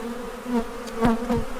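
Killer bees buzz in weeds, a steady droning hum with several louder swells as individual bees pass close by.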